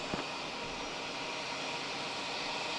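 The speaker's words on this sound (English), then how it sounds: "We got a JetBlue Embraer coming in from DC. Embraer 190." A JetBlue Embraer 190 jet landing at Logan Airport, a faint, steady broadband roar that holds unchanged throughout, distant with a brief low thump near the start.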